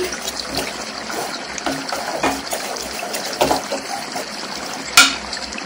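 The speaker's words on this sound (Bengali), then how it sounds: "এরপর আমি চামচ দিয়ে এটা ভালো করে জল দিয়ে মিশিয়ে নিচ্ছি" Appam batter being mixed with water using a spoon, a continuous wet sloshing and stirring with soft clicks and one sharper knock near the end, close by, no voices.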